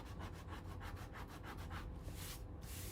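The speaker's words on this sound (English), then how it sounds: "Just come in with my sand eraser." Sand eraser scrubbing ink off black cardstock in quick back-and-forth strokes, a soft rhythmic rasping close by, then a couple of longer, broader rubs near the end.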